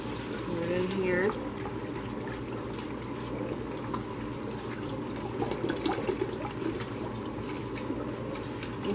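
Liquid pouring into a pot as chicken broth goes into a hearty chicken stew for canning, a steady splashing flow under a low kitchen hum, with a voice speaking briefly near the start.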